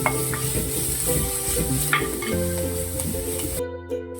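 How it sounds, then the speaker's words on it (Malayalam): Onion, green chilli and curry leaves sauté in a pan for chicken thoran, a bright sizzle under repeated clinks and scrapes of a spoon against the pan, ending abruptly. "നമ്മുടെ ഉള്ളി വഴണ്ട് വന്നിട്ടുണ്ട്."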